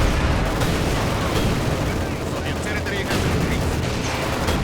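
Gunfire and grenade blasts fill a battle in the World War II strategy game Company of Heroes 2, a dense, continuous roar of shots and explosions at steady loud level throughout.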